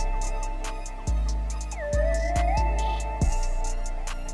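A dark synth lead pattern built with Serum and textured by a Portal effect plays in FL Studio, with sustained gliding tones and pitch slides over deep bass hits and a steady hi-hat tick, loud and with no talk.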